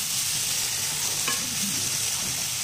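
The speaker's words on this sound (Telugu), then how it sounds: "ఇవి మంచిగా ఫ్రై అయినాయి." Curry leaves, beans, coriander powder and ginger fry in a pan for a coconut milk pulao, giving a steady, close sizzle with soft stirring throughout and no talking.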